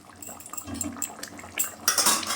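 Stirring Bata fish curry in a pan: a metal utensil scrapes and clinks against the pan in short irregular strokes, louder toward the end, close by with no talking.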